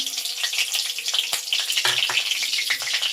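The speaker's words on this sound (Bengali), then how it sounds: "আমি প্রথমে দুটো কাঁচা লঙ্কা দিয়ে দিলাম, একটু জিরে ফোড়ন দিলাম" Green chilies and cumin seeds sizzle steadily in hot oil for a Bengali potato dish, a continuous bright frying hiss with a few short clinks and splutters, close and fairly loud, with no talking.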